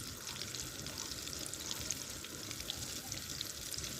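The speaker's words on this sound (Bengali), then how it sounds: "এবার ওই পিস করে রাখা মাংসটা আমি ডিবেতে এক এক করে ডুবিয়ে নেব, নিয়ে কুরকুরেতে মিশিয়ে হালকা তেলে ছেড়ে দেব" Kurkure-coated chicken pieces fry in shallow oil with a dense, even sizzle and occasional small pops, heard close and continuous with no voices.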